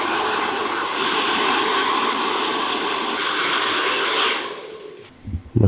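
A hair dryer blowing steadily on long hair before a skin fade haircut, a loud continuous whoosh that cuts off near the end, followed by a few faint handling knocks.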